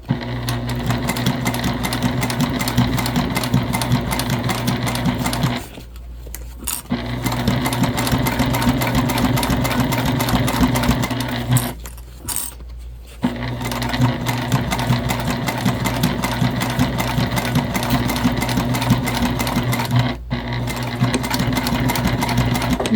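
A sewing machine runs a back stitch through a fashion East West bag, its steady mechanical hum carrying on in long, close runs broken by three brief pauses.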